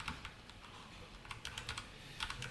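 Soft keystrokes on a computer keyboard while coding HTML and CSS, a quiet irregular patter of taps in short clusters.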